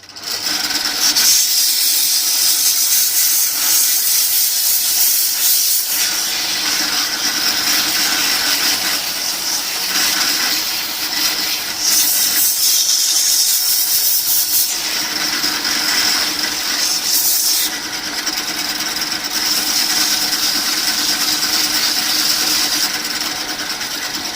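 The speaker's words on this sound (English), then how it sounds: "So we'll go with some nice rough sandpaper to get the thick off." Rough sandpaper rubbing against a spinning ferro rod gives a steady, loud abrasive rasp with a strong hiss. It runs continuously throughout, with brief dips in intensity as the strokes change.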